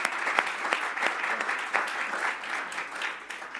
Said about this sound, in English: please give the biggest round of applause you have ever given to John Quayle